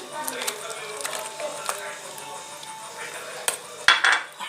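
Spoon stirring yeast into water in a bowl for homemade bread dough, light scraping and clinking against the bowl with a few sharper taps near the end, close and fairly quiet.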